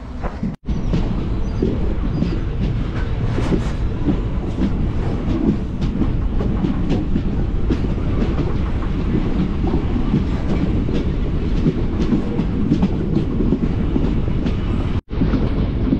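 A Palakkad SF Express train rolls steadily along the rails, a constant loud rumble with faint rhythmic clickety-clack throughout.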